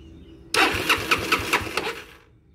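A Benelli Zafferano scooter engine cranks on its electric starter and catches at once, settling into a fast, rhythmic idle with regular pulses, close and loud with no talking.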